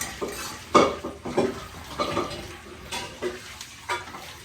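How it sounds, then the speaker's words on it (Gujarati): Uttapam batter is stirred in a bowl, a handful of scraping, clinking strokes at uneven intervals, close and moderately loud, with no talking. "આના હલાવી દઈએ."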